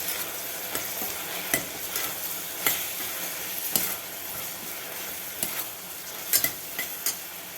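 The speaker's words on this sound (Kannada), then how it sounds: "ಚೆನ್ನಾಗಿ ಮಿಕ್ಸ್ ಮಾಡ್ಕೊಳ್ಳೋಣ ಇದನ್ನು." Turmeric and coriander powder stirred into hot oil in a frying pan: a continuous close sizzle broken by occasional scraping knocks of the spoon against the metal.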